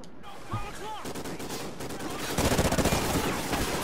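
Light machine gun fire in the video game Call of Duty: Ghosts, a loud sustained rattle of rapid automatic shots that swells heavier partway through, with a voice talking over it.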